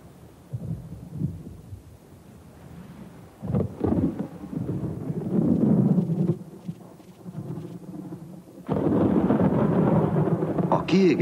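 A thunderstorm breaks over a parched savanna after months of drought, with deep rolling thunder rumbles and steady rain that builds into a heavy downpour, loud and near.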